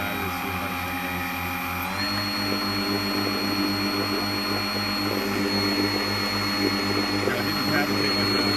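Earthwise 56V electric powerhead motor driving a kayak on a Hobie drop-in system at about three-quarter throttle, a steady droning whine with a pulsing low throb, loud and continuous, with wind noise.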